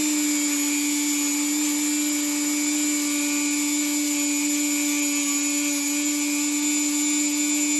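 A small wire wheel spins against Honda CT70 motorcycle parts during a restoration, giving off a steady, loud, high motor whine that stays constant and unbroken throughout.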